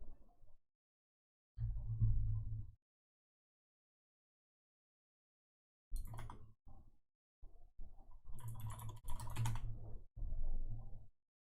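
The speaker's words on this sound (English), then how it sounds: "Yes, it's my keyboard." Typing on a computer keyboard during a forex trading livestream, heard as separate close bursts of clattering keystrokes with silent pauses between them.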